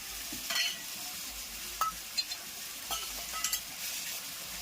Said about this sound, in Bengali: নুনটা দিয়ে করে হালকা করে একটু নেড়ে করে তারপর মাংসটা ছাড়বো